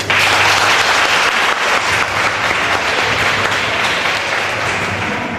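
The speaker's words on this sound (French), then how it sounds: "Veuillez les acclamer s'il vous plaît" A wedding crowd breaks into steady, loud applause for the newlywed couple Ézéchiel and Nadège, continuous clapping filling the room with a low hum underneath.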